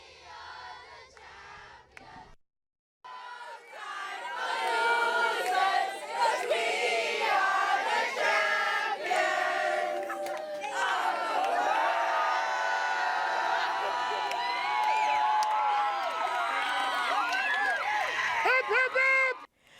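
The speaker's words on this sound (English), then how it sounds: "we're gonna now cheer them on, and we're gonna sing our chant" High school students cheering and singing their chant in a large crowd, a loud sustained roar of voices with whoops, following a brief quieter moment of talk.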